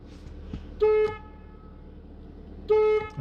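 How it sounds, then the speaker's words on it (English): A car horn honks twice, two short flat tones about two seconds apart, close and loud over a low idling rumble, with no talking. "before we go, you got to honk twice"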